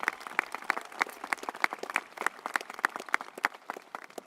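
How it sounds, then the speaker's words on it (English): High school graduation audience applauding the staff at the 2023 ceremony, with dense, crisp clapping from a crowd of many hands that stays steady and fairly close throughout. "Let's give them a round of applause as well."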